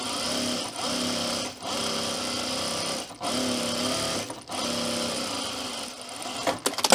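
A sewing machine stitches double rows along a fabric tool belt in close, loud bursts of rapid whirring, separated by short pauses, with a few clicks and knocks at the end.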